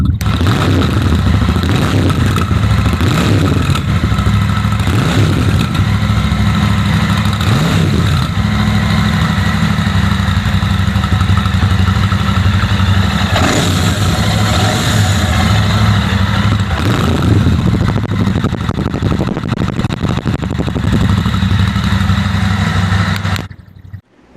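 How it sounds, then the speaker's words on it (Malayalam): A Royal Enfield Shotgun 650 motorcycle's twin engine runs loud and close throughout, a deep throbbing exhaust note with repeated throttle blips and revs over a steady idle, cutting off abruptly at the end. "ഇതിൻ്റെ എക്സോസ്റ്റ് നോട്ട് പൊളിയാണ്, ഒരു രക്ഷയുമില്ല"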